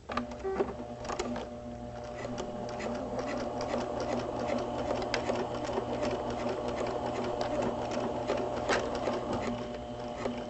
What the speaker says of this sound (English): you're going to sew that at a diagonal right across the fabric